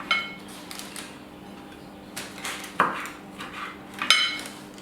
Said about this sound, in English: I'm going to chop some slices of tomato